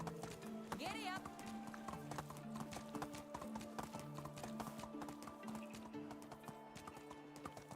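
Rapid hoofbeats from a horse in Medieval Dynasty drum on without pause, a steady close clip-clop gait after a short neigh near the start, over a faint musical backdrop and voice.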